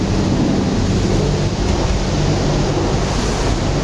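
Car wash in Canada in light drizzle, a steady loud roar of spraying water and blowers washing over the car, continuous and dense with no speech.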